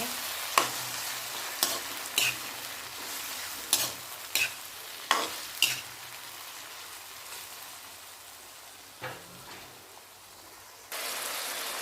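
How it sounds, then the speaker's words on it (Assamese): Goat mutton fries in oil with onions and yogurt in a pan for an Assamese curry. A continuous sizzle runs under about eight sharp, evenly spaced scraping strokes as it is stirred, with no voices. "এনেদৰে 10-15 মিনিট ভাজি ল'ব মাংসখিনি।"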